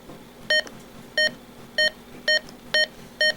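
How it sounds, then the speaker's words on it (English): Six short, identical electronic button beeps from a Midland GXT1000G two-way radio repeat at an even pace over a quiet background hum. "there's really only one button beep."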